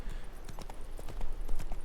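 Horse hooves clip-clop at a steady walking rhythm in Witcher 3: Blood and Wine, close and fairly loud over a low game ambience.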